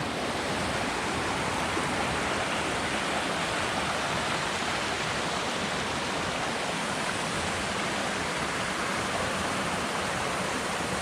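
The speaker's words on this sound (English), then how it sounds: "Pretty amazing forest and river here." A river rushes steadily through a forest, giving a dense, unbroken roar of moving water that holds at the same loudness throughout, with no voices over it.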